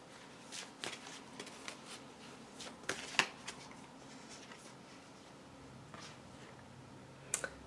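Energy Oracle cards are handled and shuffled, with soft papery riffles and flicks and a few sharper snaps, close and quiet, no talking.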